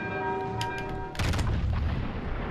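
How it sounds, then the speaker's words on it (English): A naval gun full salvo fired from a battleship in World of Warships: Legends, one heavy booming blast cutting in after a steady engine hum and lingering as a rumbling roar. "Full salvo."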